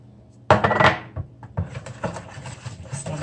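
Banana bread batter with buttermilk and vanilla being mixed in a bowl, a loud clatter of utensil against bowl at first, then a steady run of lighter scraping and tapping strokes.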